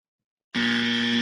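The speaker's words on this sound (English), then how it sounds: "that's the buzzer." A loud, steady electronic door buzzer sounds abruptly after a moment of silence and holds one sustained harsh tone to the end.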